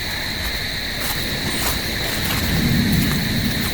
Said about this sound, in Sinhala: පේනදි පට්ට හුලන් සද්දයක් එක්ක හෙන ගහනවා